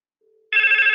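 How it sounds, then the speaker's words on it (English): A Wildix DECT cordless handset sounds its alarm ring, a faint tone followed by a loud, steady electronic ringing that starts abruptly and continues alone. "I'll see it's ringing on the handsets"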